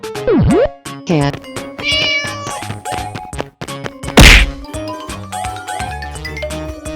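A cartoon cat gives a sharp, bending meow near the start, followed by a busy run of whacks, dings and jingles, with a loud crash-like burst midway.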